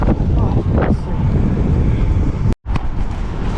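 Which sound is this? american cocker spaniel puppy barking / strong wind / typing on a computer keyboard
strong wind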